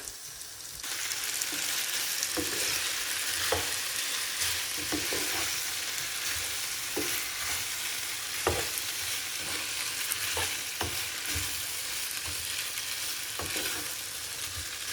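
Pasta, chicken popcorn and sauce frying in a pan, a steady loud sizzle running throughout with repeated scraping knocks of stirring at irregular intervals, no talking.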